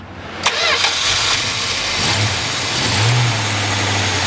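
A 1965 Dodge Dart GT engine cranks briefly, catches and settles into a loud, steady idle close by, with a short rev partway through.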